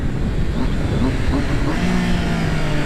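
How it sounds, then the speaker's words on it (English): A motorcycle engine hums steadily while being ridden, its pitch rising and falling with the throttle over constant wind noise, with a voice talking faintly over it. "being as I am riding a motorcycle."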